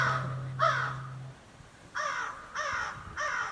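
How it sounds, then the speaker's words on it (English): Crows caw in a staged stage performance scene, several harsh calls in short bursts, one early then three in quick succession, fairly close and clear, with a low steady hum underneath. "Scare them crows off."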